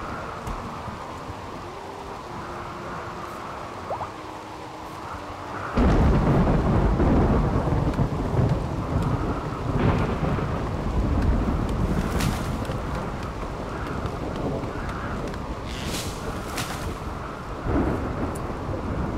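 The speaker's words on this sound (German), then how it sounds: "Es regnet ja jetzt, Gott sei Dank." Rain and thunder in the video game RimWorld: a quiet ambience gives way to a loud, steady downpour with rumbling thunder rolling through, continuing for many seconds.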